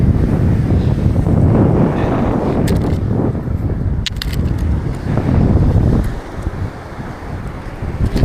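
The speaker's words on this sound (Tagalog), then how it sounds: "Mainit ang panahon ngayon, maganda ang panahon pero mahangin, mahabagat." Strong, steady monsoon wind on a hot, sunny day roaring and buffeting the microphone, a continuous low rush with occasional gusts.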